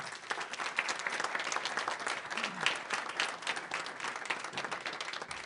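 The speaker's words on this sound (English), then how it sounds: "Let's give Mr. Luke Hill an applause" Audience applause at an urban debate event in Jacksonville, Florida: dense, steady clapping from a crowd that sustains evenly for several seconds with no talk over it.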